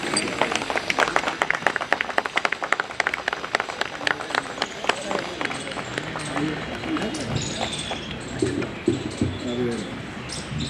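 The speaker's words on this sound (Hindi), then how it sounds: "आप खड़े होकर तालियां बजा के स्वागत कीजिए प्लीज सर।" An audience at a Bar Council of Delhi enrolment meeting stands and claps in welcome, with dense, lively applause that gradually thins, while a voice talks over it.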